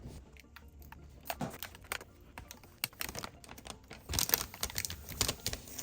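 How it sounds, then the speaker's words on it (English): Paper backing being peeled off LED circuit boards for custom Subaru Legacy tail lights, heard as a close, faint run of crackly tearing and rustling bursts with no talking. "we obviously need to peel the paper that is on these right now"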